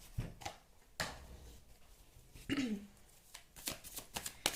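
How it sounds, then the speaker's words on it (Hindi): Tarot cards are shuffled and pulled during a Hindi tarot reading, heard as a series of soft, close riffling snaps and card flicks spaced irregularly, quiet, with a faint voice murmuring briefly in between. "let me pull out some more cards"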